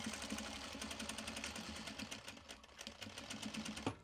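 A sewing machine pushes through thick material with fast, steady, rhythmic stitching clatter at close range, faint overall, with a slight labored knock near the end.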